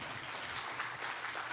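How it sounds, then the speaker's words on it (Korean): An audience at a forum applauds in a brief, faint wash of clapping, steady and distant-sounding, with no voices over it. "박수 치실 거면 크게 쳐주십시오."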